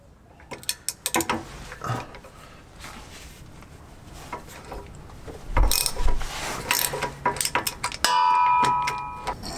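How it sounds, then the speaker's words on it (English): Ratchet wrench working a bolt on Mercedes-Benz Sprinter 170 EXT 4x4 van suspension during a spring install: rapid clicking pawl bursts in uneven runs, close and fairly loud, with metallic clanks and a louder stretch near the end. "once it starts coming, you can't even use the ratchet anymore because it's really loose"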